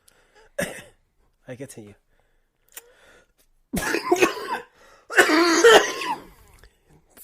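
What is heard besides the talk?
person coughing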